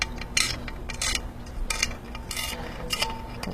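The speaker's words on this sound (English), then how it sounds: "so that's using the grozing pliers" Grozing pliers nibbling away at the edges of stained glass: a string of short, scratchy crunching bursts, close and fairly quiet, separated by brief pauses over a steady low background.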